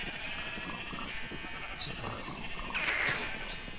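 Sheep bleat in a Minecraft game world with the Direwolf20 1.10 mod pack, several short game bleats over a steady background hum, with someone talking now and then.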